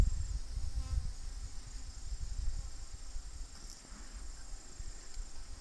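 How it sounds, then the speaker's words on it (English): Honey bees swarm and buzz around an open beehive during a hive inspection, a steady droning hum with individual bees passing close to the microphone, no voices. "I've got about 30 bees buzzing my head."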